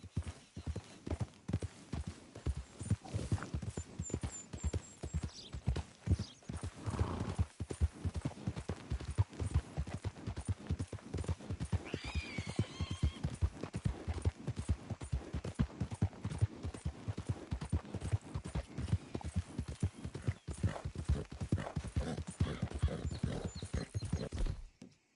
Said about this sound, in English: Where's that horse got to?